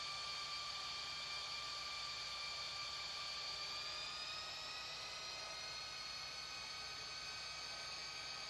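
IndiGo A320neo jet departing in Real Flight Simulator, a steady loud engine roar with a high turbine whine that rises in pitch midway, continuous and without talk.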